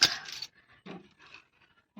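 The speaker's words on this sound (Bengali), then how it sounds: "দোকানের চাবিটা এখানটা থাক" Shop keys set down on a surface with a bright metallic jingle and clink at the start, followed by a few faint soft knocks and handling sounds nearby in a quiet room, without speech.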